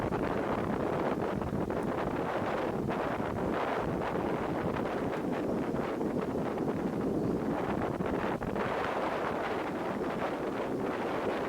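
High wind roaring over a Hilleberg Jannu tent being pitched outdoors, a continuous loud buffeting rush against the microphone with gusty surges and faint flapping.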